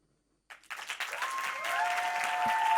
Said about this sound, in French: Merci Marine, on l'applaudit très fort.